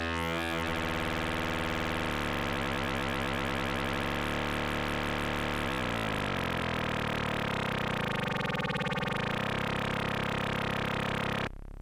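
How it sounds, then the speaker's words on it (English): On a Serge modular synthesizer, a sine wave runs through a wave folder, giving a loud, dense, continuous buzzing tone whose harmonics sweep and shimmer throughout before stopping abruptly at the end. "We get even wetter sounds from the sine wave."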